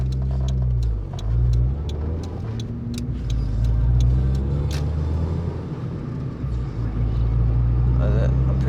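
A modified Honda DC2R being driven, its engine droning and rumbling steadily close up with mild revving, while a person talks over it throughout.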